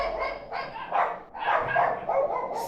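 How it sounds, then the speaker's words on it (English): Several dogs bark and yip in quick, overlapping bursts, close and fairly loud, with a few sharper high yelps mixed in. "Sorry, dogs."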